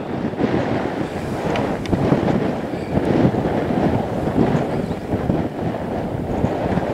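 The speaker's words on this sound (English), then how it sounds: "this wind is so strong" Strong wind blows across the foreshore at Point Cook, a steady, loud, broadband roar buffeting the microphone without pause and with no talking.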